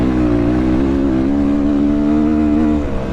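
A MOTOPRO 300 motorcycle engine held at wide open throttle, a loud, steady, close droning roar with strong harmonics that drops off slightly near the end.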